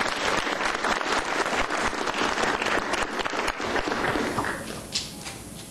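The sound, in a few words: audience applause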